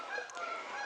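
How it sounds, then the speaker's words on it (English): Canada geese honking faintly in a field beyond an open window, a brief distant call over a soft steady background hiss. "And you can hear the Canada geese in the background."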